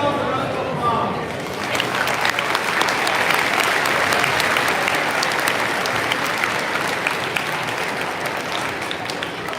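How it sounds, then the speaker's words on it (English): Audience applause at a high school Veterans Day program honoring local veterans: dense, steady clapping from a large crowd that swells after the first second and holds strong to the end. "Please give our local veterans and yourselves a round of applause."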